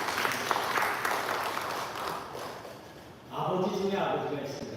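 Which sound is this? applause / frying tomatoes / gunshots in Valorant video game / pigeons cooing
applause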